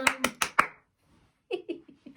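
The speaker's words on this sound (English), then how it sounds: "It is hard to clap and sing at the same time" Bare hands clap four times in quick, evenly spaced sharp bursts, then fall silent before a few softer, lighter claps return near the end.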